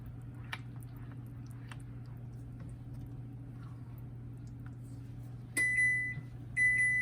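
An oven preheated to 350 degrees sounds two bright electronic beeps near the end, over a quiet kitchen with a low steady hum.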